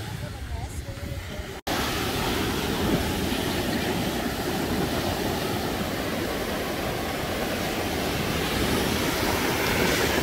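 Ocean surf breaking on a beach in the USA, a steady broad roar of waves and wind that fills the scene after a brief cut, with a voice faintly heard at the start.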